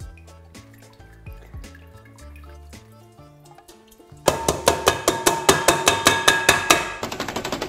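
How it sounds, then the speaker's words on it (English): A whisk beats aquafaba from a can of chickpeas in a bowl, producing a fast, steady run of loud clinking strokes that follows a stretch of soft melodic music. "You can whisk it up and turn it into like egg replacer for vegans."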